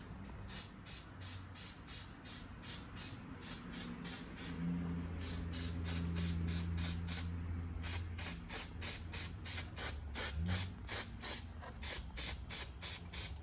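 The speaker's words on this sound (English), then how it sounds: "I'm going to spray everything on the outside" Short, rapid bursts of aerosol spray hit the outside of a performance air filter from a 2014 Yamaha Bolt 950cc motorcycle, applying red filter oil in many quick, evenly spaced puffs close up, with a low hum underneath.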